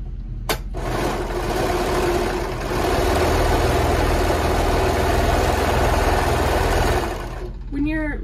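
A sewing machine stitches a shoulder seam on a knit tee in one steady, loud, continuous whirring run of several seconds, starting after a click and stopping near the end.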